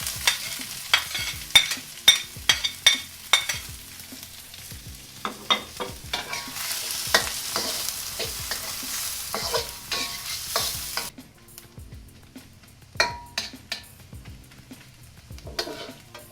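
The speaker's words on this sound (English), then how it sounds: "I'm gonna throw in my onions." Onions stir-fry in a pan of shrimp-head-flavored oil for Thai pineapple fried rice, with repeated sharp scraping and tapping strokes of a spatula over a steady sizzle that drops off partway through before more stirring resumes, with no voices.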